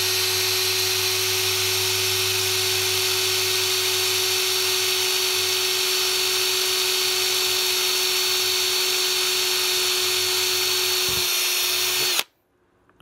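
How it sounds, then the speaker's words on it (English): A power drill whines steadily at high speed for several seconds, drilling holes in a Kel-Tec Sub-2000 buttstock for a recoil pad, close and loud, then winds down and stops abruptly. "hold your drill square at that angle, and we're gonna go right in"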